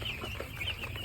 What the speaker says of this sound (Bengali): মুরগিটা ভালো আছে